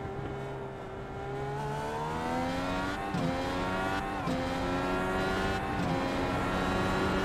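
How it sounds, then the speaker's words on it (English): Race car engine at Road Atlanta braking hard into the S's, rapid downshifts with revs jumping in quick steps between sustained high-pitched engine notes, loud and close with no other sounds. "Amazing he makes those downshifts that quick look that easy."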